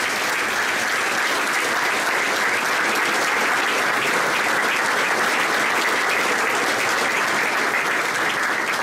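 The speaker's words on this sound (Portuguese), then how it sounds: "a vocês dois, uma grande salva de palmas" Audience applause at a book launch about Tourada à Corda, a loud, dense and continuous round of clapping from a large crowd that holds steady for the whole stretch without talk.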